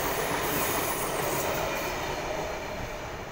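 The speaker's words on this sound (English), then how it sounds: "V-set passing." A Sydney V-set train passes Petersham station, with loud, close rolling wheel and rail noise and clattering carriages sustained throughout.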